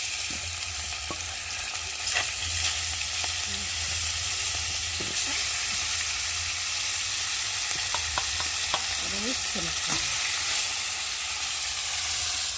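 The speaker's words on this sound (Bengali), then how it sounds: "আর এখন আমি মাছগুলো আর 4 পিস রয়েছে, সেগুলো ভালো করে ভেজে নেব।" Four pieces of fish fry in hot oil in a kadai, a constant loud sizzle broken by occasional clinks and scrapes of a utensil turning them in the pan, with no talking.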